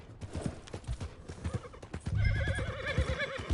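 A horse in Red Dead Redemption 2 gives a loud, quavering whinny after a run of steady hoof clops, the neigh rising and wavering near the end, fairly close and faint overall.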